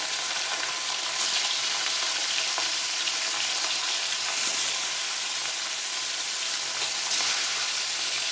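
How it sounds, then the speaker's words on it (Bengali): Fish sizzles steadily in hot oil in a home kitchen pan, a dense bright crackle and hiss close by, broken by a few louder spits and pops, with no talking. "মাছটা ভাজা হতে থাক।"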